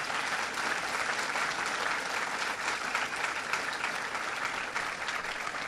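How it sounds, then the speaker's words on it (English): Inside a Walmart store, an audience at a speech on energy breaks into steady, sustained applause, a dense wash of clapping that stays level and continuous throughout, with no talking over it. "That's worth applauding."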